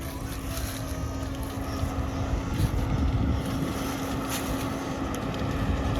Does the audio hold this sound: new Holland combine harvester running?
yes